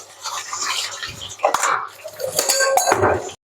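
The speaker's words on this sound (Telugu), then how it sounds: "ఇప్పుడు గిన్నెలన్నీ తోమాలి" Dishes being scrubbed and washed in a full kitchen sink at home, with steady clinking of pots, pans and cutlery, scraping, and a few sharper knocks of metal against metal, close and fairly loud.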